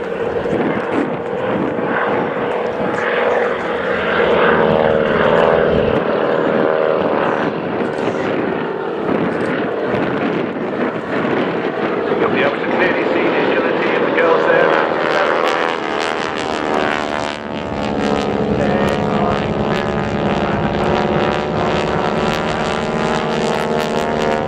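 Propeller aircraft of the Breitling Wingwalkers display team flying at the Scampton Airshow, a steady loud engine drone that swells and shifts in pitch as the planes pass, continuous throughout.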